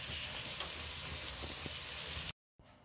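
Onion hits hot oil tempered with cumin seeds in a kadai, giving a soft, steady sizzle and hiss with faint crackles, cutting abruptly to silence near the end before a quiet resumption.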